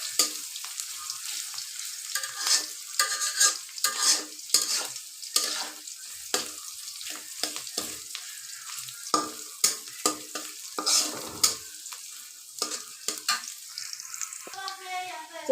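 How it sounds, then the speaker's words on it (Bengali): Chopped onion and green chili fry in oil in a wok, a bright sizzle broken by frequent, irregular scrapes and clacks of a spatula stirring, close and fairly loud throughout. "এখানে আমি পেঁয়াজ কাঁচামরিচ কুচি করে কেটে রেখেছিলাম, সেটা দিয়ে দিয়েছি। তো প্রথমে এটা একটু ভালোভাবে ভেজে নিতে হবে।"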